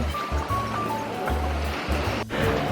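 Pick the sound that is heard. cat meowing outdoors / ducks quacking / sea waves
sea waves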